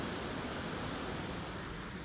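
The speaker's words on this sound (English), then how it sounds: "We got a little bit of waterfall." Small waterfall at the War Eagle mill, heard as a steady, even rush of falling water that fills the whole stretch without pause or talk.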